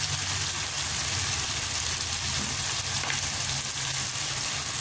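Masala with ginger frying in a pan for a chicken pota kaleji dish, a steady, loud, close sizzle that runs unbroken with no voices over it.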